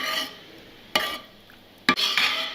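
Chopped coriander being stirred into a cooking dish, two sharp clinks of a spoon against the pot between soft scraping stirs, close and quiet with no talking.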